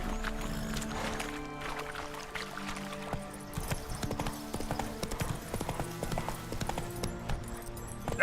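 Roach the horse in The Witcher game trots and gallops with a steady rhythm of hooves, clip-clopping close and clear over soft ambient background, no speech.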